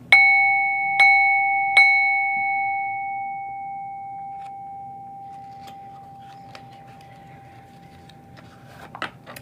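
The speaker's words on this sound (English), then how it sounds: "knocking the bell 3 times removes any lower vibrational energy, demonic energy, etc." A small bell is struck three times in quick, evenly spaced succession, each clear ringing strike sustaining and then slowly decaying into a long fading hum, followed by faint handling noises.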